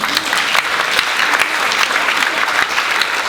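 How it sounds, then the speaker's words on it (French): Loud, dense applause from a theatre audience at a season presentation, continuous clapping that fills the room steadily from start to finish. "vous pouvez applaudir."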